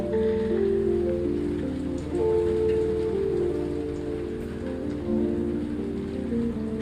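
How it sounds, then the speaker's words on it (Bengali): Homemade papad sizzles steadily in hot oil, a dense, continuous crackling hiss close by that swells slightly as the pieces puff up. "আমি খুব সুন্দর করে ভেজে নিচ্ছি আর তেলে দেওয়ার সঙ্গে সঙ্গে ফুলে একদম ডাবল হয়ে যাচ্ছে"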